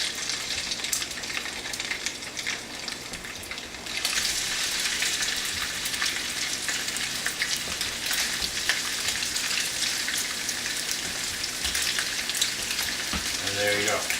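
Sausages frying in olive oil in a pan, a dense steady sizzle with crackling pops that grows louder and fuller after the meat hits the hot oil, continuing close up without talk.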